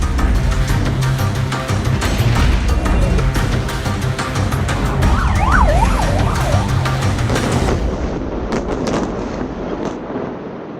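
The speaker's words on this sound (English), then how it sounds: "The sirens have gone off." Air raid sirens wailing loudly during a rocket barrage, a rising and falling tone over a heavy low rumble that drops away near the end.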